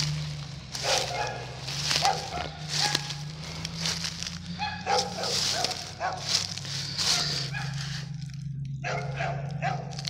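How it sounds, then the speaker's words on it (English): A big dog barks repeatedly somewhere near a rural cemetery in Shady Grove, Alabama, with sharp, irregular woofs over a steady low hum and outdoor background noise. "What a big old dog."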